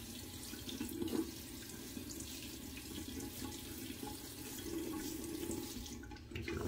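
Tap water runs steadily into a sink as a face is wetted before shaving with a Henson Medium razor, a soft continuous faucet wash holding level throughout, fairly faint and close, with no talking.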